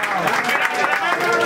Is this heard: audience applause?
yes